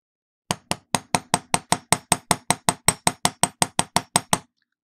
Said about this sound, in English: you also want to bang this out with your hammer